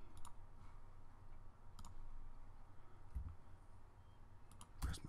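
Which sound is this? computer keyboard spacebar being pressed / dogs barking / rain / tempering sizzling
computer keyboard spacebar being pressed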